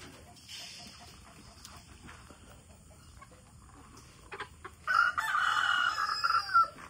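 A backyard flock of chickens, with hens clucking softly at a distance before a rooster bursts into a loud, close crow near the end over quiet outdoor background.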